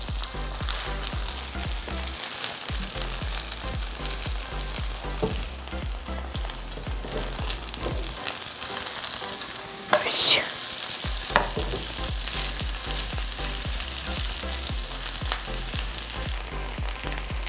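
A chive pancake sizzles and crackles steadily in hot oil over medium heat, a dense continuous frying hiss close by with no talking.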